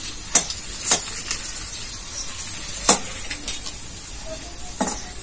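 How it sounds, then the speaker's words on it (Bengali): Sliced onions fry in oil until reddish-brown for birista in a village kitchen: a soft, steady sizzle broken by several sharp metallic spatula clinks and scrapes against the pan, close and alone. "এই পেঁয়াজটা আমি ভেজে বেরাস্তা করে নেব।"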